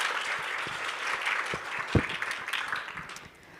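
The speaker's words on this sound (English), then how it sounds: "So let's put our hands together for Riley." Applause from a conference breakout-session audience welcoming the next speaker, steady dense clapping throughout with a few sharper individual claps standing out, fading slightly at the end.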